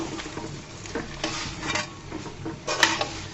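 Malabar spinach being stirred in a pan with a spatula, soft sizzling under repeated scraping strokes and an occasional metallic clink, close and moderately loud.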